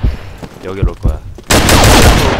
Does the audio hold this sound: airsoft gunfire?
yes